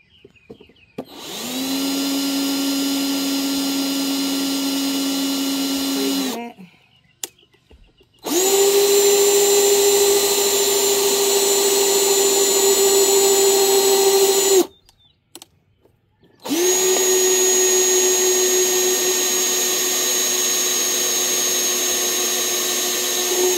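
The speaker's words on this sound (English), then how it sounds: "I'm going to take this part and put it in here and then drill the outer side." A power drill whines steadily as it bores into a plastic grow tower part, running in three long, loud, close bursts separated by short pauses, with no talking.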